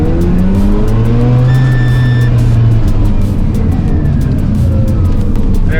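Mazda RX7 Bathurst Type R pushing into a low-to-medium speed corner, with a loud, close engine note rising and falling as it accelerates and shifts, continuous and alone.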